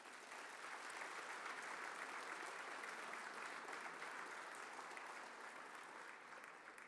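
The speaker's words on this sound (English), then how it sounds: "I'd just like to hear a round of applause for that" Sustained audience applause fills a hall at an engineering school capstone awards ceremony, a steady dense wash of many hands clapping at moderate distance, holding evenly for several seconds with no speech over it.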